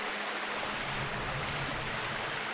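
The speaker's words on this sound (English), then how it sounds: "God damn, this is a long-ass water slide!" Steady rushing water from sliding down a long water slide in Zelda Twilight Princess, a constant broad wash of flowing water, fairly soft and unbroken, with no talk.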